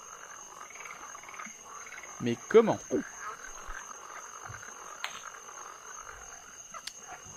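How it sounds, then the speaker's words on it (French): A frog in the game Rusty Lake Paradise gives a short run of three or four low, throaty croaks, clear and close, over a faint steady background hum, with someone speaking briefly. "j'ai donc chopé une grenouille"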